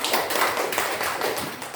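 Classroom of students applauding together, a dense, steady burst of many hands clapping close by for nearly two seconds with no talking.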